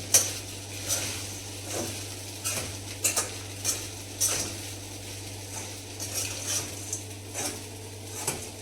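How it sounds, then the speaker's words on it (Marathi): Peanuts tossed and stirred in a pan, with repeated clattering scrapes and rattles of nuts against metal at an uneven rhythm, close and clear over a steady low hum, no talking. "आता ह्याला व्यवस्थितपणे हलवून घ्यायचं"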